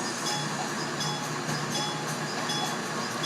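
A Conrail diesel locomotive (TMCR-840CW) in the Trainz railway simulator produces a steady, loud engine drone with a faint metallic clink layered over a dense broadband rumble.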